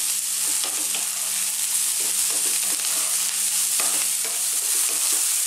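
Ginger, garlic and tofu sizzle steadily in a hot pan, a loud constant frying hiss broken by soft scraping knocks as a utensil stirs the pieces, with a faint low hum underneath and no talk.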